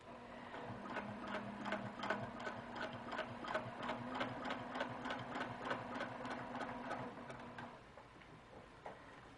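A sewing machine stitching a quilt seam, running in a fast steady mechanical rhythm of needle beats with a low motor hum for several seconds, close and clear, then stopping.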